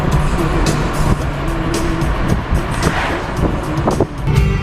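A 2000s BMW 325ci driving on a warm day with the windows down, loud rushing wind buffeting over steady road and engine noise, continuous and close.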